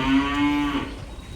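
A large dairy cow that calved a week earlier gives one long, close, loud moo, steady for most of a second before fading into quiet farmyard background.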